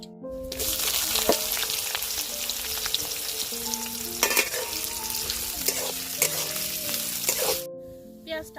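Chopped onion frying in hot oil with garam masala in a pan for a village-style country chicken curry: loud, continuous sizzling with stirring scrapes and some steady tones underneath, fading near the end.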